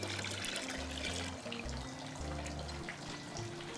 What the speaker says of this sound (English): I also have 3 cups of water just to dilute our concentrate down a bit.